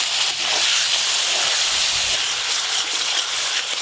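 A spice paste of tomato, salt and turmeric sizzles with a little water added, a steady, fairly loud steamy hiss with small bubbling crackles continuing throughout.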